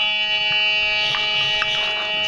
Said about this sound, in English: That's why I use threshold hum.